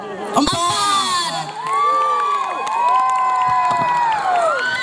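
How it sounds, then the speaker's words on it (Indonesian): Crowd of high school students at a scout camp campfire arts night in Yogyakarta cheering, shouting and whooping for a class performance, loud and lively, with an amplified voice speaking over the crowd. "Kita beri tepuk tangan untuk kelas 10-4."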